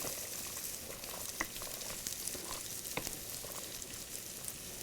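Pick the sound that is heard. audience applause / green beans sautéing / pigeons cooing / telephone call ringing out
green beans sautéing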